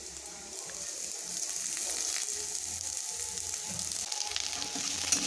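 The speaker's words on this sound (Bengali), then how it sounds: "এই লঙ্কা আর রসুন কুচিটাকে আমি একটু নেড়ে চেড়ে নিচ্ছি।" Chopped chilli and garlic fry gently in a pan for khesari greens, giving a soft continuous sizzle with faint stirring, quiet and close, no talking.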